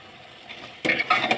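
Water going into a pan of chicken curry cooked with marfa, sending up a sudden burst of sizzling with a few metallic clinks against the pot after a quiet start.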